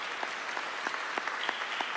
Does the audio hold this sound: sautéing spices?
no